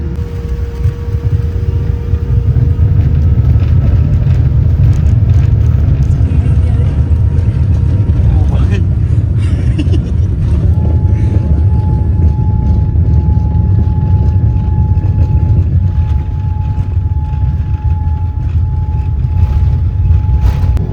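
Jet engine roar inside an airliner cabin during takeoff and climb on a flight from India to Singapore, a loud steady broadband rumble with a faint whine, continuous throughout.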